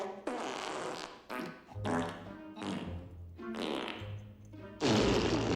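Cartoonish fart sound effects from the Scooby-Doo (2002) movie, a string of several loud, wet, sputtering bursts of varying length with brief gaps between them.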